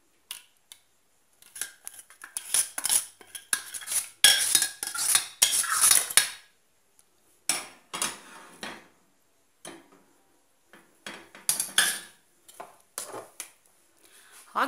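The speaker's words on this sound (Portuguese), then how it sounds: "vou estar colocando o molho, aquele refogado da carne moída, por todo o refratário" A spoon scrapes and clinks in a glass baking dish as ground beef sauce is spread across it, giving irregular close bursts of metallic scraping and tapping separated by short silences.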